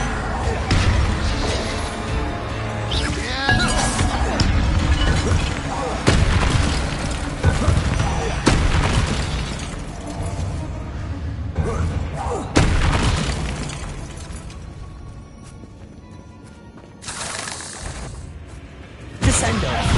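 A dense stretch of spell blasts in the video game Hogwarts Legacy: repeated loud explosions, crashes and whooshes pile up over twenty seconds, fading briefly near the end before another hit, with voices shouting spell names over the combat.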